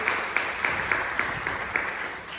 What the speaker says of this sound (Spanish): Dele bien fuerte las palmas a Dios.